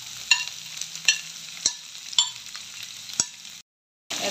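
Onions with cumin, coriander, curry leaves and green chillies fry in oil for poha, with a soft sizzle under sharp spatula scrapes and taps, then a brief silence.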